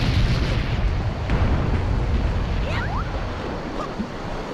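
Bombs exploding in The Legend of Zelda: The Wind Waker, a loud, dense roaring blast that fills the whole clip, with a couple of brief whistling chirps near the end.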